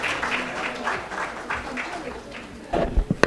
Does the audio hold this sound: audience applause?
yes